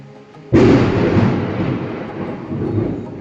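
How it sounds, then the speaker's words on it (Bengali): A loud thunderclap cracks abruptly outside during a heavy storm in Meghalaya, then rolls and rumbles on without fading for several seconds, with no talk over it. "বাইরে ভীষণ পরিমাণে বাজ পড়ছে আজকে।"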